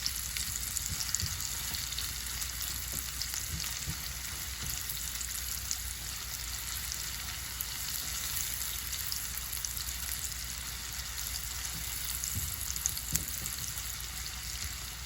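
Stuffed chicken breast with spinach and mozzarella, optionally with onions, green onion and chopped garlic, sautés in a pan, giving a steady, even sizzle and crackle that holds throughout without talk.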